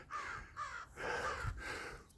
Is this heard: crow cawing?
yes